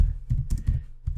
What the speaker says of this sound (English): you just need to simply keep typing